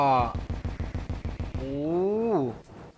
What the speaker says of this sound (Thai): มันจะยิงเหมือนดวงวิญญาณออกไปแล้วก็ระเบิดนะผม